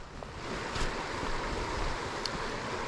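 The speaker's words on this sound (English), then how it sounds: "it looks like we got two creeks that meet up together right here" Two creeks meet and flow together at a Dawsonville, north Georgia campground, making a steady broadband rush of moving water with no break, heard close and moderately loud.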